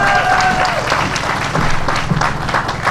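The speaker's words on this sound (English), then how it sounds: "Commissioner Boatwright, let's give her a round of applause as she graces the stage." A crowd claps steadily throughout at an apartment ribbon cutting ceremony in Auburn Gresham, the applause loud and dense with some crowd murmur mixed in.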